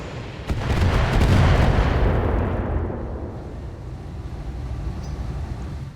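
Mech weapons, including AC-20 and AC-10 autocannons, fire in the BattleTech video game with a loud, rumbling barrage of blasts that swells and then trails off into a long fading roar.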